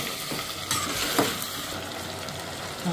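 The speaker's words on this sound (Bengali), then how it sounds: "মাংসটা আমি তেলে ভালো করে ভেজে নিচ্ছি। দিয়ে দিলাম আদা বাটা, দিয়ে এটা একটু ভালো করে ভেজে নেব।" Chicken pieces with ginger paste frying in hot oil, a steady close sizzle with occasional stirring scrapes and clinks from the pan, no voices.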